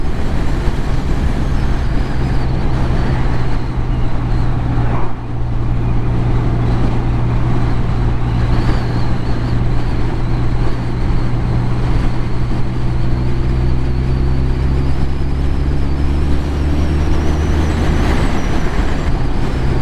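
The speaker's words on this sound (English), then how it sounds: "Very responsive on and off the throttle, 5th gear, just rolling it on, rolling it off." BMW R12nineT motorcycle riding in fifth gear on an open road, throttle rolled on and off, heard as a loud steady engine drone under heavy wind rush, with pitch slowly rising toward the end.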